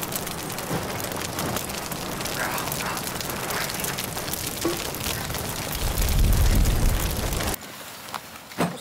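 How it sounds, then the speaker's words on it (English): Steady rain pours down on the countryside in a constant hiss, in a TV drama scene, with a deeper rumbling swell near the end before the sound drops noticeably quieter. "Raining countryside."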